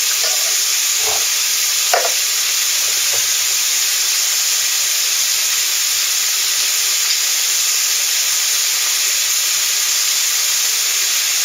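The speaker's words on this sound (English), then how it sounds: "I am frying the mince" Minced meat fries in a pan with onions, peppers, garlic, salt and pepper for a chili: a steady, close sizzle with a few stirring clatters near the start and no talk.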